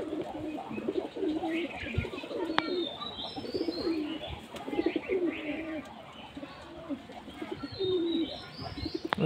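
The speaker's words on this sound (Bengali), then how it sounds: "আমার পায়রা" Pet pigeons coo in repeated low, throaty phrases from fairly close range, with occasional faint chirps and a steady background murmur.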